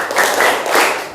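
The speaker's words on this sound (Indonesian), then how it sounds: "Ustadz berkata, tepuk tangan." A group of fifth-grade schoolchildren clap their hands together in a classroom game, a short burst of mixed, slightly uneven claps, fairly close.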